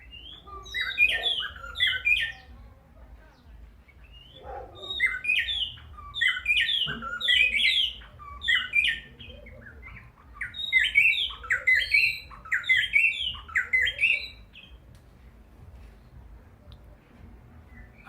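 A wild bird sings territorially in Zimbabwe, loud, close bursts of bright chirping, warbled phrases repeating in clusters with brief pauses, over a low background rumble.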